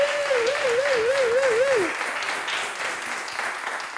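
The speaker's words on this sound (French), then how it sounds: "On applaudit pour Rogerio et Fortuné" Game show studio audience applauds steadily at the end of a quiz round, a broad clapping wash under a brief melodic musical sting that fades after the first two seconds.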